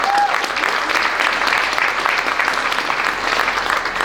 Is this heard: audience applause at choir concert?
yes